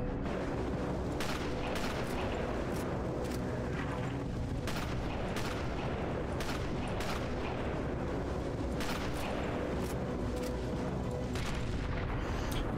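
Repeated sniper rifle shots in the video game Sniper Elite, set in an underground metro station, cracking out every second or so as loud sharp bursts over a dense, rumbling battle background.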